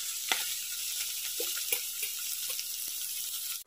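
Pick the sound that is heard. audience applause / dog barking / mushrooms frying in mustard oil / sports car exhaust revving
mushrooms frying in mustard oil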